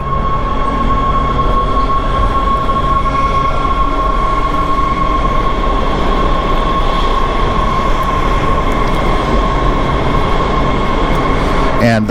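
Loud, steady rumble of an electric trolley car in motion, like a Pacific Electric red car, with a sustained high electric whine and faint wheel noise, continuous and close.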